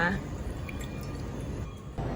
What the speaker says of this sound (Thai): แล้วเราก็จะเทน้ำซุปนะคะ น้ำซุปไก่แล้วก็น้ำเชื่อมนะคะน้ำตาลนั่นแหละเทลงไปในนี้นะคะ